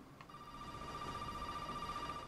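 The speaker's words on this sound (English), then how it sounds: "Someone's ringing the phone." A telephone rings in the video game Resident Evil: a steady electronic ring tone at moderate volume follows a short click, with no talk over it.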